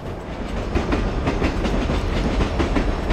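Subway train ride in the video game The Warriors: a steady, loud rumble of rails with rhythmic clickety-clack of wheels over joints, continuous throughout with no voices.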